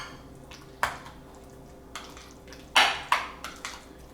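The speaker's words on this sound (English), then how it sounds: "We're going to mix it up again." A spoon stirs cucumber mint yogurt with dried mint in a bowl, giving a few sharp clinks and soft wet squishes spaced irregularly, close and alone without talk.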